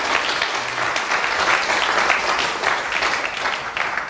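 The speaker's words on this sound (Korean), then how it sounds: "박수 한번 주세요." A lecture audience bursts into applause, a thick, even wash of many hands clapping together at close range, sustained throughout without speech.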